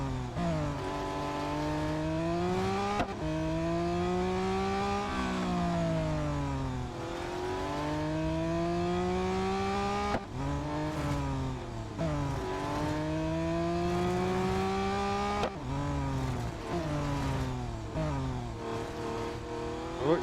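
A race car engine in Real Racing 3, a sluggish car that handles like a tank on ice skates, revs up through the gears again and again, each climb broken by a brief drop at the shift, loud and continuous.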